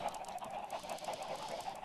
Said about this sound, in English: Now I got my chickens.